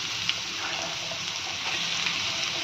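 Ridge gourd pieces fry in hot oil with garlic and curry leaves, giving a steady, dense sizzle that stays close and even throughout, with a few faint stirring knocks and no talking.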